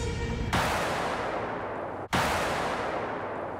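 An armored personnel carrier blown up during a military drill, heard as a dense, loud, sustained roar of blast noise that briefly cuts out and then resumes at full strength.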